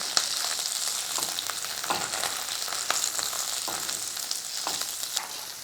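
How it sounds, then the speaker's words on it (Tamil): Chopped ginger and garlic sauté in a hot pan for a kodo millet and plantain meal, giving a constant close hiss of frying with intermittent scraping stir strokes and no talking. "இப்போ இது கூட கட் பண்ணி வச்சுருந்த இஞ்சி துண்டு, பூண்டு இதெல்லாம் சேர்த்து வதக்கிக்குவோம்."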